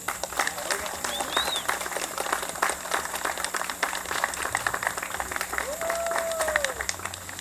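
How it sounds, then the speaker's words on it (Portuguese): Guests at a Brazilian wedding ceremony break into applause after the couple is pronounced married, a dense spread of clapping with a few whistles and cheering voices mixed in. "Aplausos."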